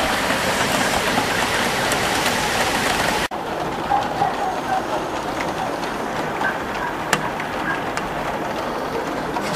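Steady heavy rain from a downpour over Łowicz, Poland, hisses continuously, dropping slightly after an abrupt cut, with occasional faint taps over the downpour.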